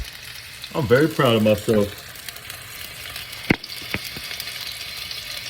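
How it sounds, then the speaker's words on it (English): Food fries on a skillet with a steady, close sizzle that continues throughout, broken by a few sharp utensil clicks. A person speaks briefly over it at the start. "First time I threw something on the skillet. It's been years. Listen to that. Listen to that sound."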